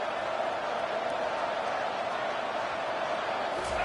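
A football stadium crowd roars steadily at a distance, a dense continuous wash of cheering that holds level throughout, with a commentator's voice talking over it.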